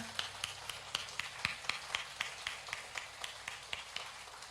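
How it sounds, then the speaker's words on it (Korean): Church congregation clapping together in a steady rhythmic beat, soft and somewhat distant, for several seconds. "주님께 다시 한번 큰 영광의 박수 올려드립시다"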